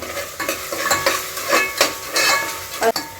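Onions with a spoonful of ginger-garlic paste sizzle in a pan while a spoon stirs them in uneven scraping pushes, a close crackle swelling with each stroke and a sharp clink near the end.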